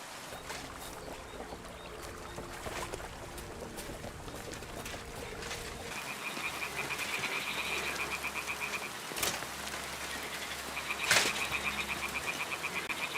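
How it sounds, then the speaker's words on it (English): Toads croak steadily near a nest in the game Chiaroscuro DLC, a rhythmic, rattling chorus under ambient water and night sounds, with a few louder knocks standing out. "Ah, the toads are croaking here."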